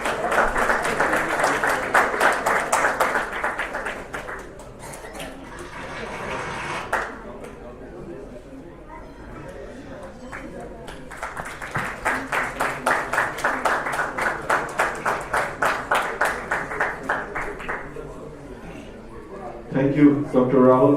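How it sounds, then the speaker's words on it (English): Closing-ceremony crowd applause at a doctors' T20 cricket league event in Dubai, with loud sustained clapping swelling, fading under background voices, then surging again before a final short burst. "Can you all louder claps?"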